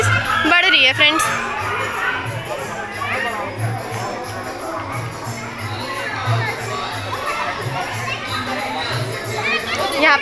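A busy crowd at a Janmashtami celebration, with many overlapping voices, children shouting and chatter forming a continuous lively din, plus a low rhythmic thump beneath.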